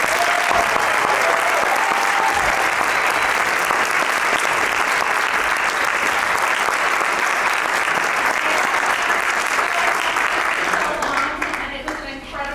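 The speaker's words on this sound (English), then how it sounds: "give them another round of applause." Sustained loud applause from a large audience at a second grade school play, steady dense clapping that continues for several seconds before thinning out at the end.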